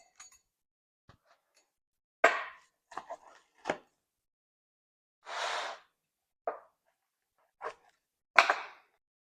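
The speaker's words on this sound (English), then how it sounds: "I'm going to cut them up and let's take a look." A knife cuts through a baked NYC-style pizza made with tipo 00 and bread flour dough, giving a handful of separate crunchy, crackling cuts and taps in otherwise quiet surroundings.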